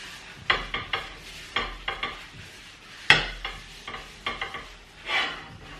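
Soy spread being wiped and scraped around a pan while greasing it for pancakes, a series of close, soft scraping and clinking strokes in irregular bursts with no talking.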